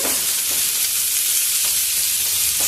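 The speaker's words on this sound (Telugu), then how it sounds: "వేసుకొని ఇంకా బాగా ఫ్రై చేద్దాము ఇంకొను హైలోనే ఉంచండి" Colocasia (taro root) pieces fry in oil over high heat, giving a loud, steady, close hiss of sizzling with a few faint stirring scrapes and no voices.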